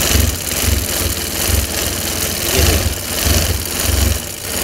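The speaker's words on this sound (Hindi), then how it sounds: "इसके कॉर्नर पे हम सिलाई लगा रहे हैं" Sewing machine stitching a fabric strip around a round neckline, a steady low mechanical hum and vibration with a gently pulsing rhythm, close and continuous without talk.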